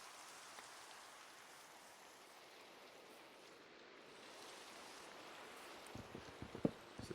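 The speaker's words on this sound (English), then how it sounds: "Honestly, this rain is kind of nice." Minecraft rain falling in a foggy game world, a soft, steady hiss of rainfall, faint and continuous, with a few small thumps near the end.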